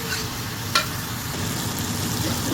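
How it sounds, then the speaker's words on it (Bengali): Prawns frying and being stirred in a pan, giving a steady close sizzle with a brief clatter of the utensil near the start. "এখন এই মাছটা দিয়ে দিলাম, এই মাছটা নেড়ে করে দিলাম।"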